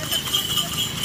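Horse hooves clip-clop as a delman horse cart is pulled along, steady rhythmic clopping in the foreground over constant street noise, with a voice talking over it.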